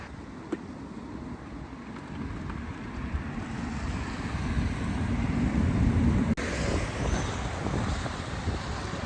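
Wind gusts blow across the microphone on a near-empty street in Wuhan at 2 a.m., a steady broadband rush that swells louder midway, with a faint distant traffic hum underneath.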